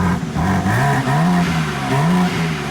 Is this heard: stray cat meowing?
no